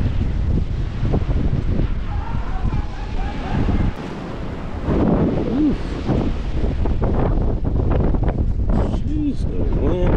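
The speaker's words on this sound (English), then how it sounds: "the wind is crazy up here" Strong wind buffets the microphone with a constant loud roar on a beach fishing pier on the ocean, with surf rumbling underneath and a person talking intermittently.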